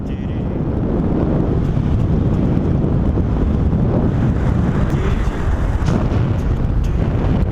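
Strong wind roars across the microphone while paragliding along a coastal slope near the Star of Greece in South Australia, a loud, continuous buffeting rumble that persists for the whole stretch without letting up.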